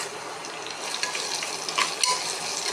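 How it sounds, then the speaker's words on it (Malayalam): Sliced onions frying in oil in a pan for a prawn curry, a steady close sizzle with faint crackles and a few brief clinks, no talking. "ഇത് സവാള മുരിഞ്ഞുകൊണ്ടിരിക്കുന്നത് കേട്ടോ"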